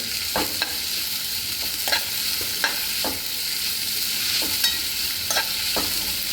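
Beef for beef chilli fries in oil in a pan, giving a loud, steady sizzle that runs throughout, punctuated by about eight sharp spatula scrapes at irregular intervals, heard up close with no speech.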